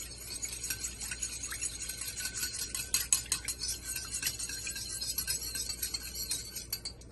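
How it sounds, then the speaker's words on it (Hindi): Dahi bare batter being beaten and mixed with water in a bowl, giving a steady run of quick clinking and scraping utensil strokes with brief sharper clatters, close and continuous, with no talking. "इसको हम थोड़ा सा बीट करेंगे, मिक्स करेंगे"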